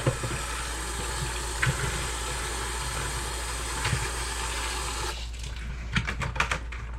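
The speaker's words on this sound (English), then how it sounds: "Now let's go ahead and rinse these off." Garlic cloves are rinsed under a running tap, a steady close water hiss with occasional knocks, ending in a few sharp taps as the flow stops.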